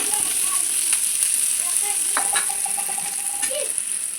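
Moth beans tipped into roasted onion in a hot pan, giving a continuous bright sizzle with a few faint clinks and scraping sounds from the pan.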